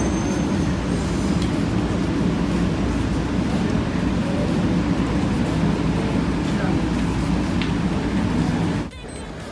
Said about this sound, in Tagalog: Sasakay ka ng train papunta ng pinaka-airport